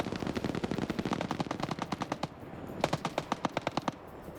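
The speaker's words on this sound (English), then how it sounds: "Dishka now firing." A DShK heavy machine gun fires in a video game in two sustained rhythmic bursts of rapid, evenly spaced loud shots separated by a brief pause, with no talk.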